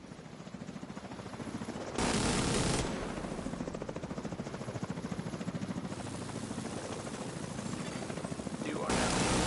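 An enemy helicopter in The Division 2 video game thumps loudly with rapid rotor chop, mixed with bursts of gunfire and game voice lines over it.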